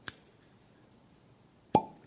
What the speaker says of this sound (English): That was a great cork pop.